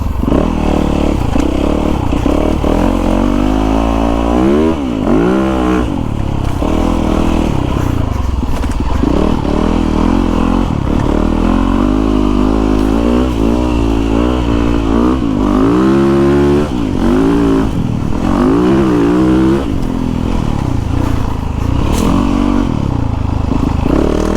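A 2016 Yamaha YZ450FX 450cc dirt bike ridden off-road, its engine loud and close throughout, rising and falling repeatedly as the throttle opens and closes, with some rattling and scraping.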